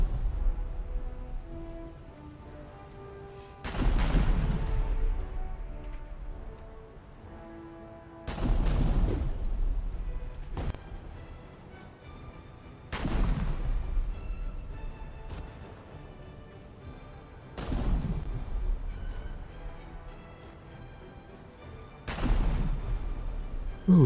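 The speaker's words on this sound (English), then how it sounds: "with all those Moffats firing from that range" Warship guns fire in World of Warships, Russian cruisers in battle: five heavy booming salvos spaced about every four to five seconds, each with a long rumbling decay, over a quiet low background hum.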